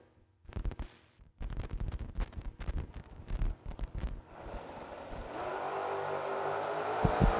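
Drag racing cars, a black S10 and a fake Camaro, roar loudly at a drag strip: choppy bursts of revving at first, then a sustained, steady engine roar that builds and carries to the end of the run.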